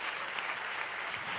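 Church congregation applauding during a sermon, a brief soft even patter of clapping heard from a distance with no voice over it.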